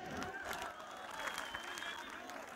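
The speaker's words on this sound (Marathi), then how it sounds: "एकदा रवी सरांसाठी जोरदार टाळ्या होऊन जाऊ दे." An audience at a stage event breaks into applause, a fairly faint, continuous patter of clapping with talk mixed in over it.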